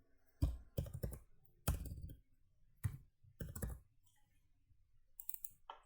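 Someone types quietly on a computer keyboard, entering connection keys for a Kubernetes cluster. The clicks come in irregular bursts with short pauses between them.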